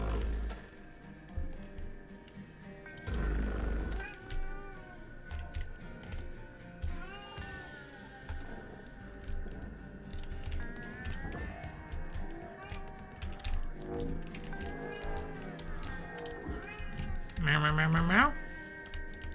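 A cat gives a short meow near the end amid steady computer keyboard typing and people talking in a room.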